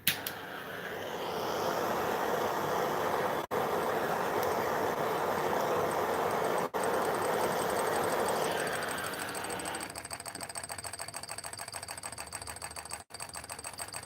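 A tiny model engine runs with a fast, even mechanical clatter, fairly quiet and close, steady for several seconds before shifting into a sharper, rapid ticking rhythm, with no talk over it.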